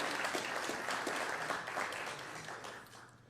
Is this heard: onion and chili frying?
no